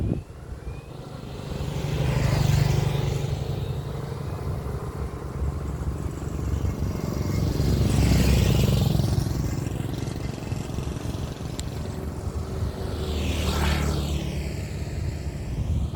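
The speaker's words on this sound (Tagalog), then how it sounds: "Marami pang sasakyan oh." Cars and motorcycles pass on a road one after another, three broad engine swells building and fading across the clip over a steady traffic rumble, heard while roller skating in Binaliuan.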